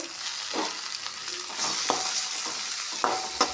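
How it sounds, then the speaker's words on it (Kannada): Chopped tomato fries in a pan for a North Karnataka-style sprouted-bean palya, a soft steady sizzle broken by several scraping stirs of a spatula, close and fairly quiet, with no voices. "ಟೊಮ್ಯಾಟೆಯನ್ನು ಚೆನ್ನಾಗಿ ಮೆತ್ತಗಾಗೋ ತನಕ ಫ್ರೈ ಮಾಡಿರಿ"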